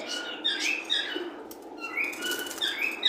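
Caged pet birds at a pet market flapping their wings, several quick fluttering bursts close by, mixed with faint chirps and no talk.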